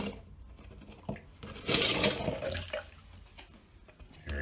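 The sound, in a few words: water being bailed out of a shower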